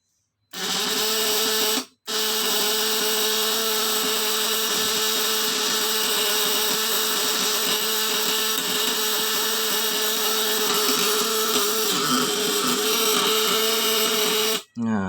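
A 1000 W fish stunner buzzes loudly as its platinum contact vibrates, a steady harsh drone that cuts out briefly near the start and again at the end, with no one talking over it.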